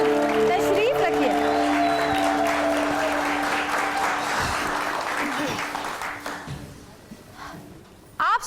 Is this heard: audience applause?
yes